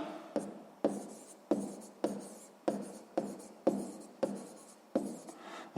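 A pen writes on paper while a math problem is worked through, with about nine crisp, evenly spaced scratching strokes, close and quiet, each fading quickly.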